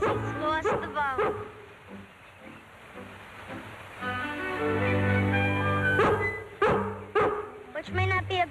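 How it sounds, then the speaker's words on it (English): A dog near a lake gives a few yips and barks, some sharp and some drawn out and whining, heard at moderate distance and mixed with a background drone. "Was that a bark? It came from the lake."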